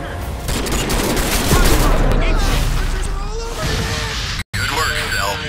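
Gunfire in the multiplayer video game Crysis 3 rattles as rapid, overlapping bursts and heavy booms, loud and close, with game voices talking over the din and a brief cut near the end.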